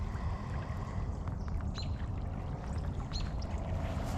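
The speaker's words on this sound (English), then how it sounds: "lots of water flowing." Creek water swollen after several inches of rain flows steadily in a continuous rushing wash, close and even, with a few faint bird calls above it.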